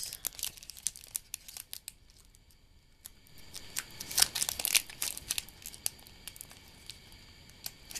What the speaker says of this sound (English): we'll just use these scissors